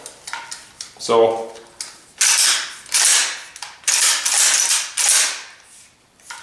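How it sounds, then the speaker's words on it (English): The magazine cap of a Weatherby PA-459 12-gauge pump shotgun is screwed back on, producing bursts of rapid metallic ratcheting clicks, close and loud, separated by short pauses, with a brief spoken word near the start. "All you got to do now is throw the cap back on. You can hear it ratcheting."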